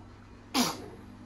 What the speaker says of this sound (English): You sneezing on me